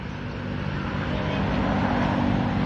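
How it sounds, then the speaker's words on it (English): A loud, steady engine roar drones continuously, growing slightly louder, like a heavy modified motorbike running nearby. "This is fucking huge noisy motorbike ever."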